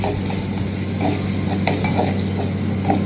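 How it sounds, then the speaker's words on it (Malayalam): Washed, dried raisins frying in oil for an Onam sadya chakkarapuli, a close, steady sizzle with soft scraping strokes of a spoon stirring the pan. "ഉണക്കമുന്തിരിയാണ് അത് ഇട്ട് കൊടുക്കണം അതും ഈ എണ്ണയിൽ കിടന്നിട്ട് നന്നായി ഒന്ന് ഇട്ട് വരണം"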